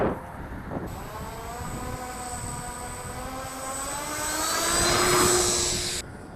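A Sonic Modell Cessna 182 electric model plane takes off, its motor a steady high whine that rises in pitch and grows louder as it climbs away, heard alone against faint outdoor background.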